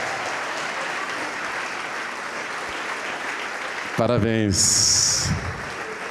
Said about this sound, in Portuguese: E vamos aplaudir mais ao nome do Senhor.